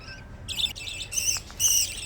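Tame budgerigar chicks chirp in short, bright bursts, a pair of young parakeets calling near and fairly loud in quick clustered tweets with brief pauses between.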